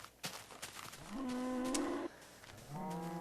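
Blocky cows in the Minecraft video game mooing, two drawn-out low moos one after another with a short gap between them, fairly close and clear over faint background noise.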